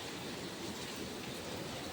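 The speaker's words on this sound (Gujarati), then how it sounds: "વરસાદ ચાલુ થઈ ગયો છે" Rain falling steadily outdoors, a soft, even hiss of drops on surfaces, faint and continuous with no voices.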